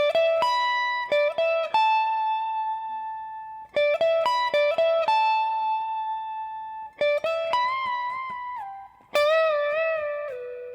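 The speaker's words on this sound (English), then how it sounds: "And in total for the second line of the solo." Electric guitar plays the second line of a song's solo, clean sustained notes in three phrases of quick picked attacks and held tones, ending with a bent, sliding note, played alone with no talk.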